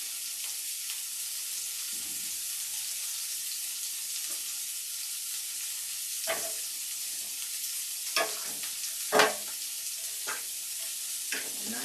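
Shallot fries in a pan under a constant close sizzle, broken by several sharp scraping stirs that grow more frequent toward the end. No one speaks.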